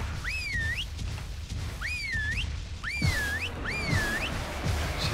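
In the video game ARK, a whistle command sounds four times, each a rising and falling whistled phrase, clear and prominent over a low game background rumble.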